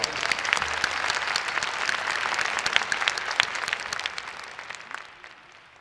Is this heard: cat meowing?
no